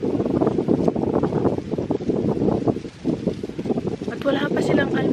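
Strong, cold wind gusts across a farm in Pakistan, a steady roar and buffeting against the microphone that swells and dips throughout, with voices talking over it.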